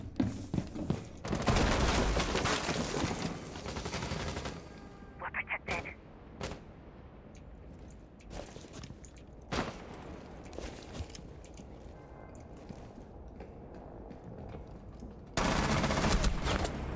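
Heavy automatic gunfire in Rainbow Six Siege, a long loud burst at the start and another at the end with scattered single shots and thumps between, close, with players talking over it.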